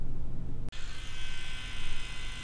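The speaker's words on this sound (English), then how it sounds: "This is our tomato pollinating toothbrush." Close, steady electric toothbrush buzz, used to pollinate tomato flowers in a greenhouse, broken by one very brief cut before the hum resumes with a slightly brighter tone.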